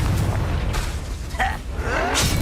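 Bombarda and Confringo spell blasts in Hogwarts Legacy, heavy booming explosions with rumbling low end and brief bursts, loud and close amid continuous battle noise.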